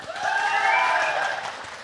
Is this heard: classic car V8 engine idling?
no